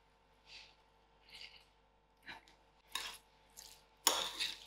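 Soft scraping and clinking of a spoon in a bowl as a tinned fish samosa filling with lemon juice is mixed, a few scattered stirs growing louder toward a sharper final scrape.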